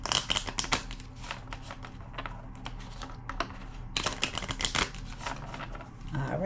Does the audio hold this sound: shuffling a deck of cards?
yes